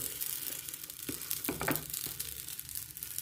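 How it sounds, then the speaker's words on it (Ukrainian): Quiet, steady sizzling of flatbread frying in a covered pan on a stovetop, with a few soft scraping and shifting noises partway through. "накриваю і ще хай смажиться"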